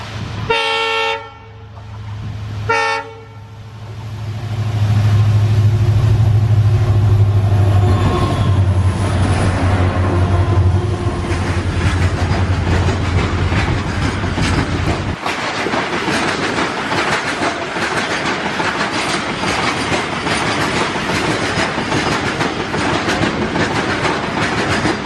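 A freight train on the Konkan Railway line runs steadily and loudly past for the whole span, with a horn blast early on and a continuous rumble and rattle of wheels on the track. There is no talking.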